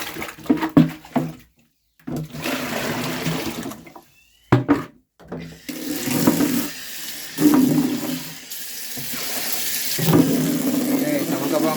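Water runs and splashes into a bucket during fish tank cleaning, coming in bursts broken by short silences, with someone speaking briefly in between.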